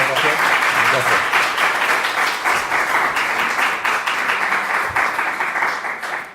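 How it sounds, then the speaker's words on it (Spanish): A seated audience at an evening art lecture in Cuenca gives warm welcoming applause, steady dense clapping from many hands that continues evenly throughout and tapers slightly at the close. "les pido por favor un cálido aplauso de bienvenida"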